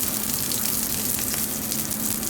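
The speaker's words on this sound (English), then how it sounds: "Hear that nice sear." Blanched pearl onions searing in blended cooking oil in a pan, a steady close hiss and sizzle that holds evenly throughout with no talking.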